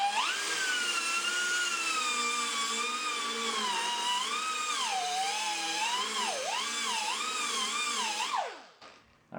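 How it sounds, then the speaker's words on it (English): High-speed cutoff wheel grinding through a sandblast cabinet part, a loud, continuous whine that rises and dips in pitch as pressure changes, then spins down and fades at the end. "I'm just going to do this with the cutoff wheel, and let's see if it works"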